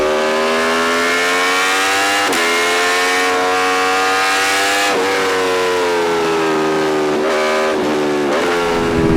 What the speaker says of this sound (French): Un moteur V4 qui s'exprime quand même très haut dans les tours